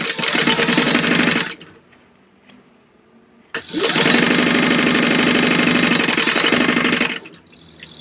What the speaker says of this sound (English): And then we're just gonna find our thread, sew those together.